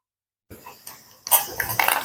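A lid set down on a cooking pot of vegetable daliya, giving a few close metallic clinks and clatters that build to a brighter clang near the end, with no talk over it.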